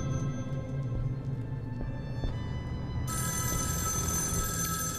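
A telephone rings in the video game Erica, a steady electronic trill that swells brighter partway through over a constant low ambient drone.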